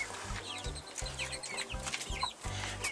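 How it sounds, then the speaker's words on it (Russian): Chickens and roosters cluck in an evening farmyard, a steady run of close, repeated clucks with bird calls overlapping throughout, no talking. "Ой, сколько у меня там петушков много."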